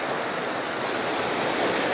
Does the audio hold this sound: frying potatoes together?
no